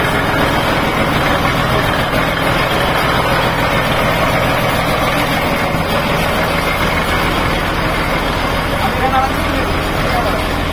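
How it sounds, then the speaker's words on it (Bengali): An L96 marine diesel engine on a boat near Bakkhali runs loud and steady, its heavy, constant rumble and mechanical clatter filling the whole clip while a voice speaks beneath it. "এবার ইঞ্জিনের ব্যাপারে ইঞ্জিনের একটা ভীষণ আওয়াজ"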